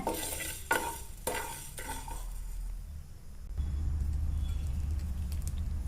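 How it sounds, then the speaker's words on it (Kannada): Cumin and fennel seeds dry roasting together in a pan with a spoon, giving a few scraping stirs and clinks at first, then a steady, close, dry crackle and hiss that grows louder and continues alone. "ಜೀರಿಗೆ ಒಂದು ಸ್ಪೂನ್ ಐತಿ ಮತ್ತು ಬಡೆ ಸೊಪ್ಪು ಒಂದು ಸ್ಪೂನ್ ಐತಿ ಅವೆರಡೂ ಕೂಡೆ ಹುರಿಯತಾನೆ"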